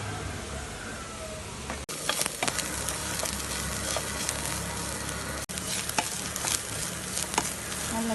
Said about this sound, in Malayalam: നല്ലപോലെ ഫ്രൈ ആക്കും.